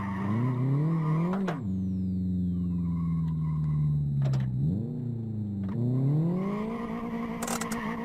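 A Volkswagen Golf in the Live for Speed racing simulator, played on a Logitech G29 wheel, with a steady engine drone that dips and swells as the tyres squeal through handbrake slides, punctuated by sharp transient clicks.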